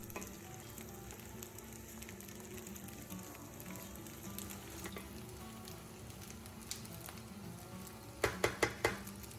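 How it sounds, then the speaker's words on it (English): Fried rice with vegetables and sausage sizzles steadily in a pan, a continuous crackling fry with faint stirring, ending in a few sharp utensil clinks near the close. "Gently mix everything together and continue frying for another 2 to 3 minutes"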